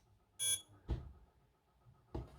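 Power-up beeps from a Hobbywing QuickRun 1060 ESC: a short bright electronic tone, then two lower-pitched blips roughly a second apart, faint and close against a quiet room.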